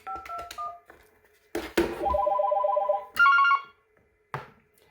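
Yealink T54W desk phone signalling an incoming call, with a series of clear electronic tones and beeps in bursts, close and moderately loud, separated by button clicks and short silences.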